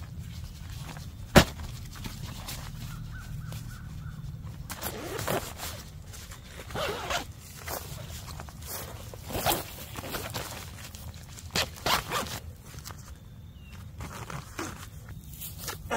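Short rasping zipper pulls on a broken, separated tent zipper come in bursts, close by, with rustling and fabric handling in between; a sharp click stands out near the start.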